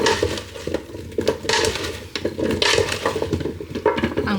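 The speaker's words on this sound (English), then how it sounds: "you can give it a good mix" Hands toss sliced potatoes with seasonings in a bowl for an air-fryer potato gratin, giving soft irregular squelching, rustling and light clattering against the bowl, close and moderate in level with no talk.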